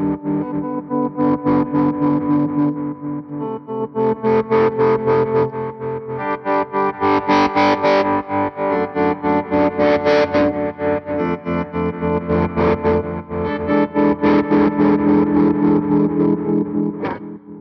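Electric guitar played through a Victory V4 amp with delay, distorted chords and picked phrases ringing with echo repeats and a chorused shimmer, loud and continuous with no talk.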